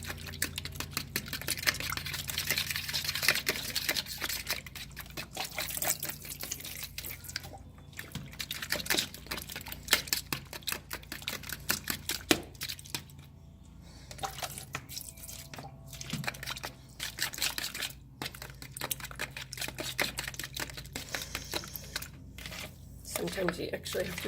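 Cloud slime is being worked by hand with borax solution, giving wet squelching, sticky tearing and crinkly crackling sounds up close, continuous and busy throughout with short pauses.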